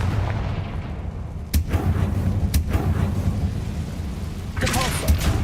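Confringo fire spell from Hogwarts Legacy detonating in deep booming blasts, with sharp cracks punctuating a rumbling low-end bed, loud and close.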